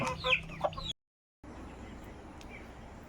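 Chickens cluck in a few short, close calls during the first second, then a brief silence gives way to a steady, quiet outdoor background.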